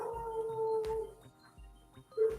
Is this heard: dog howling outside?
yes